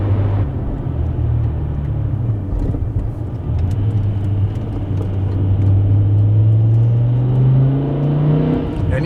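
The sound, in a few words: BMW E60 M5 V10 engine and exhaust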